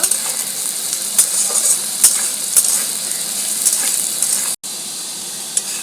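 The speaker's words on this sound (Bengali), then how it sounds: "আলু আর পেঁয়াজ দুটোকে এবারে ব্রাউন ব্রাউন করব" Potatoes and onions brown together in a pan for ghugni with goat fat. A steady close sizzle runs throughout, with a few light stirring clicks and a brief dropout partway through.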